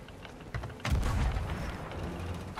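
Ship cannon firing in Sea of Thieves, a deep booming shot followed by a rumbling low blast and lingering roar, among softer background battle sounds, no talking.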